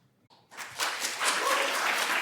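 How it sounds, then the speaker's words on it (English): At a Senate hearing, an audience breaks into applause after a brief quiet moment, a dense wash of clapping that swells and holds steady. "So you might want to hold your applause."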